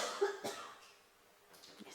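A single short cough sounds faintly in a quiet committee room, followed by soft breathy noise and a second faint cough-like burst near the end.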